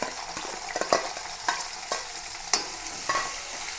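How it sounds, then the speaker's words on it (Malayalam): Shallots, garlic and green chillies dropped into hot oil give a close, steady crackling sizzle, punctuated by several sharper spits and stirring clinks at irregular moments. "നമുക്കതിലേക്ക് ചുമന്നുള്ളി, വെളുത്തുള്ളി, 2 പച്ചമുളക് ഇട്ട് കൊടുക്കാം."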